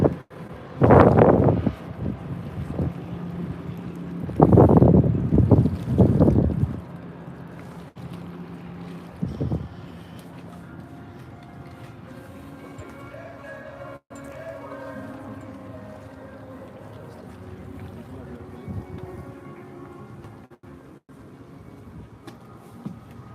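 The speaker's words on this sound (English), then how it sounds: "Mark Power there in the yellow boat, and then we've got one of the little ones out there as well." Racing boats on open water produce a few loud bursts of engine and rushing noise early on, then fade into a steady wind-buffeted background with faint distant engine drone.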